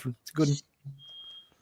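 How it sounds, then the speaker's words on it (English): A smoke alarm gives one thin, steady high beep lasting about half a second, faint and following a burst of nearby conversation. "I'm going to turn off the alarm"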